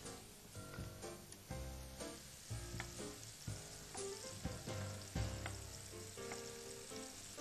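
Rice sizzles steadily in a hot pan on very low heat while lobster thermidor is prepared, a continuous frying hiss broken by stirring scrapes, with a tonal hum running underneath.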